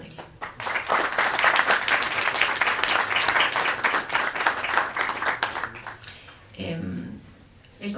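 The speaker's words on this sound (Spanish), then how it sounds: "Por favor, demos un gran aplauso a nuestro gran panel." An audience at a cultural centre talk on Quito's architecture applauds the panel, with dense clapping that swells, holds for several seconds and then tapers off as a voice starts speaking.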